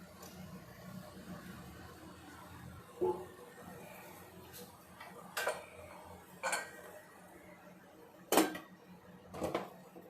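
Several sharp metallic clinks and clanks of kitchen metalware, scattered across a quiet background, as a lid is handled and set down on a pot of sugar syrup.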